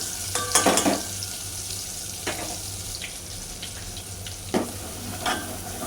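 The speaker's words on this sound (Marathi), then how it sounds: "आता ह्यामध्ये घालूया हा मसाला आणि मसाला चांगला भाजून घेऊया" Masala roasts in melted ghee with chicken in a pot, giving a soft continuous sizzle broken by a few sharp scrapes and clatters of stirring, nearby and moderately loud.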